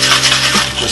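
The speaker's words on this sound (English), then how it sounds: "we're going to give it a really short, sharp little shake" French 75 cocktail given a short, sharp shake in a shaker, a loud, dense burst of ice rattling that lasts under a second, close up and alone.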